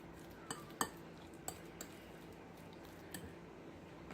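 Guacamole mashed and stirred with cilantro in a bowl, faint scattered clinks and taps of a utensil against the dish over a quiet home-kitchen background.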